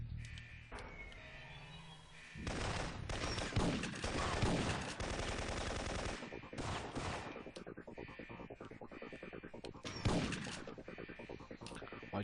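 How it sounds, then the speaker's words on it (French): Shotgun fire rings out in a French-language video game, loud sharp blasts amid dense rapid gunfire and clattering action, with repeated heavy bangs across the stretch. "On va utiliser un peu le fusil à pompe"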